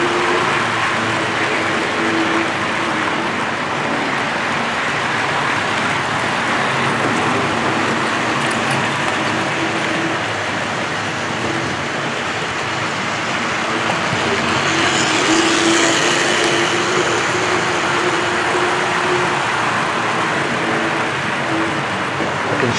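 A model gas turbine locomotive runs along a model railway track among continental freight stock, giving a steady, continuous rolling rumble with a faint whine throughout and no speech.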